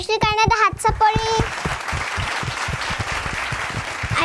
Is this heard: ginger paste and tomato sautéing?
no